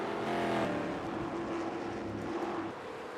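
Race cars in a 1956 ARCS Cup Series finale circling Lakewood Speedway, engines droning and whining steadily at mid distance, swelling slightly as a pack passes, with no talk.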